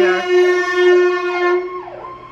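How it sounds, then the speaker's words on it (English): Ambulance siren passing close on its way toward a hospital, loud and sweeping in wavering tones that slide downward and fade as the vehicle moves away. "Ambulance heading down that way towards the hospital."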